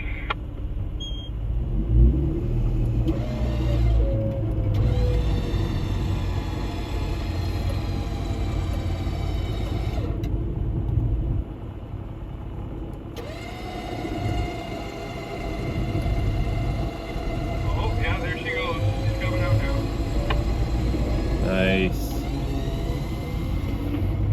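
A loud, steady engine rumble from a Ford F-350 pickup reversing during a night vehicle recovery runs throughout, rising and easing as it maneuvers, with a whining drone layered on top.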